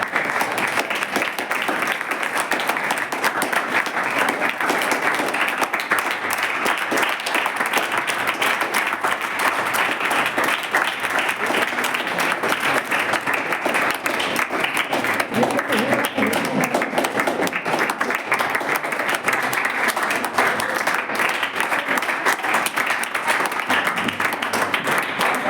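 Sustained audience applause at a school social audit program inauguration, with dense, steady clapping from a gathered crowd that continues at an even level throughout.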